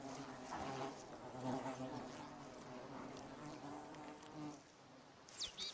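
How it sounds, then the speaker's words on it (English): Wild bees buzzing around a plundered honey store, a continuous droning hum with several insects wavering close and farther off, moderately loud and steady throughout. "The bees understandably resent having their stores plundered."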